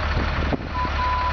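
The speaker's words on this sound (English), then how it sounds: "Nice backup alarm," A Freightliner diesel grain truck's reverse alarm beeps steadily over the low rumble of its idling engine, a sharp high tone repeating at close range.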